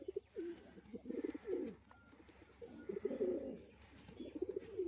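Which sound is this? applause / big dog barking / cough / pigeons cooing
pigeons cooing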